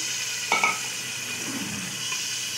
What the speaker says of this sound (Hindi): इसे मिक्स कर लें।